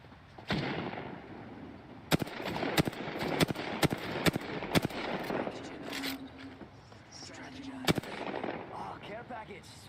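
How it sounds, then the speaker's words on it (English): Gunfire in Apex Legends: a string of sharp, loud single shots at uneven intervals, some in quick bursts, over a low background of game ambience. "I'm taking fire."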